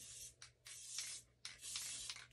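An aerosol spray adhesive hisses in three sharp bursts into a trash can, close up, each a few tenths of a second long with brief pauses between.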